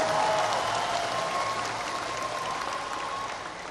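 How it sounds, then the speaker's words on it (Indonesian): Audience applause at a political speech marking 25 years of reform in Indonesia, a dense, steady wash of clapping from a large crowd that fades slightly toward the end, with faint voices underneath. "Tepuk tangan untuk para pejuang reformasi kita."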